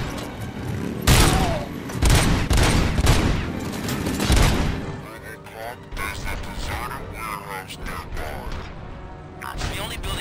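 Gunfire rattles out in the video game Robocop: Rogue City during a bank heist against bikers, with loud, close bursts of shots and thuds early on easing into lighter mechanical clatter, while a voice talks over parts of it.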